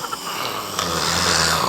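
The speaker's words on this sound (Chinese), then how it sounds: "放屁打呼噜，全让你占全了" A sleeping man snores once, close by: one drawn-out, rumbling rasp that swells and holds for under two seconds in an otherwise quiet room.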